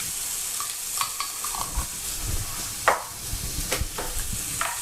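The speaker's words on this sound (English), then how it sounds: "we're just going to mix that all in together now, get those vegetables coated in that" Vegetables being stirred through a heaped spoonful of tikka curry paste in a pan, with a steady background sizzle and scraping stirs through the clip and one sharper clatter near the middle; no talking.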